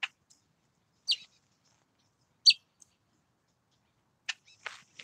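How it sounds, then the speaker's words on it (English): Small bird near Pinto Lake on a sunny winter day giving short, high, sharp chirps, about five separate calls spaced irregularly over near silence, close and clear. "You guys can hear that bird."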